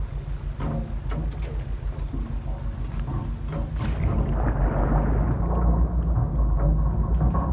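Thunder from a lightning bolt in the Minecraft game, a rumbling crash that swells about halfway through and stays loud, layered over steady game ambience by a submarine trap base.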